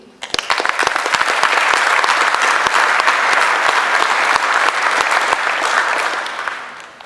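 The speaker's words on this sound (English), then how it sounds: "A round of applause for you." An audience at an awards event honoring a hearing instrument specialist claps loudly and continuously, a dense crackle of many hands that holds steady for several seconds before tapering off.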